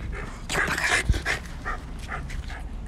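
A small dog barks and whimpers close by in a house during the evening, with loud yelps and whines arriving in several short bursts.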